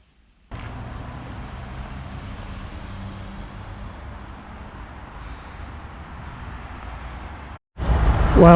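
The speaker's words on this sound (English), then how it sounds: "A lot of traffic noise as you go past some quite busy roads" Steady roadway traffic noise from busy roads beside a walking route out of Winchester along the Itchen, a continuous broadband rumble with wind buffeting, ending in a louder burst.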